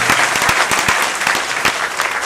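Loud audience applause fills a theatre after a Hindi stage play, dense steady clapping from a crowd with sharper individual claps standing out, continuing without pause.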